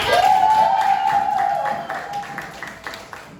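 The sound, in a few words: classroom students clapping hands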